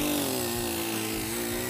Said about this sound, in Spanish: Arranca la motosierra